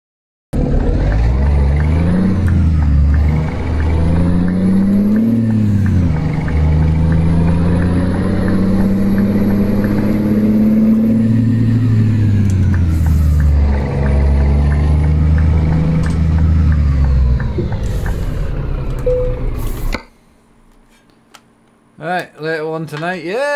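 A truck engine in Euro Truck Simulator 2, a non-V8 with a custom sound mod, rumbles loud and steady for about twenty seconds with rising and falling revs, then cuts out to near silence with a few faint clicks.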